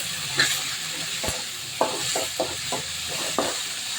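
Tomatoes fry with onions and curry leaves in a pan, giving a steady close sizzle with occasional stirring scrapes and clicks against the pan.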